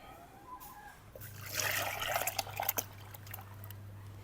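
Ground chickpea paste pours from a measuring cup in a soft, wet, gurgling stream for a couple of seconds, quiet and close, with faint drips trailing off.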